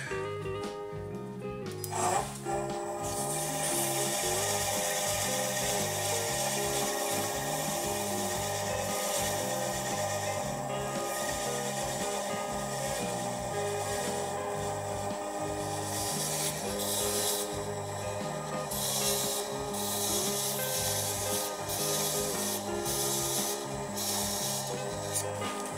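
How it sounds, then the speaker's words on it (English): A maple finial being sanded on a lathe from 180 up to 400 grit makes a steady, continuous rubbing rasp that runs close and fairly loud for the whole stretch, with no talking. "I will start at 180 grit. And I will sand this up to 400"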